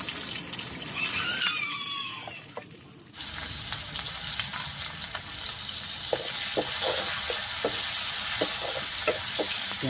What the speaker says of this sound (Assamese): পিঁয়াজটো অলপ ৰঙা কৰি ল'ম